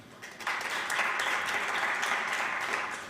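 A round of applause from the audience at the Bank of Namibia annual report launch, a fairly quiet but steady wash of clapping that swells after a soft start and holds evenly.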